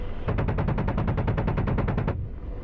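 An Apache helicopter's cannon fires in DCS World as one rapid, loud burst of about sixteen evenly spaced shots over roughly two seconds, then stops.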